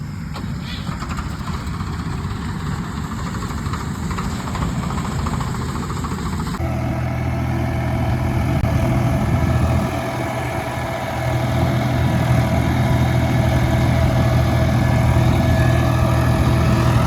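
A tractor engine idles on a Punjab farm during the paddy harvest, a steady low diesel rumble that stays close and constant and grows slightly heavier partway through.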